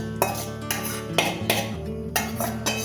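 Halwa batter of flour dissolved in milk, added to bubbling sugar syrup in a pan and stirred, with metal utensils clinking and scraping against the pan in repeated strokes over steady background music.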